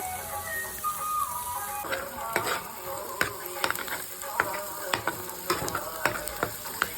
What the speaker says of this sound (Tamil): அந்த பட்டர் மெல்ட் ஆகிற வரைக்கும் கொஞ்சம் நல்லா ஃப்ரை பண்ணிகிட்டே இருங்க.